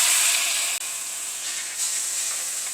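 Chopped tomatoes sizzle as they drop into roasted onions in a hot pan, giving a loud, steady, bright hiss with a brief dip near the start and no talking.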